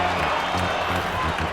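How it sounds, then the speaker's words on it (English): A stadium crowd in the baseball video game MLB 2K7 roars and cheers steadily as a backdrop, a broad continuous swell of noise with faint rhythmic chanting underneath. "you'll hear this crowd picking up their team"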